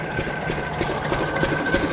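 A roughly 30-year-old diesel engine on a farm runs at a steady clip, with rhythmic knocking pulses about three times a second over a continuous mechanical hum.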